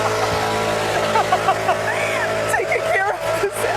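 A leaf blower drones steadily outdoors on an afternoon, a loud, constant engine hum with people talking over it throughout.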